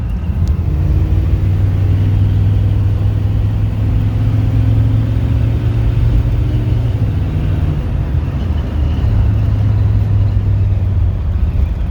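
Chevrolet 150 with a 350 crate motor and 700R4 transmission, its V8 engine idling and rumbling loudly up close in a steady, even drone.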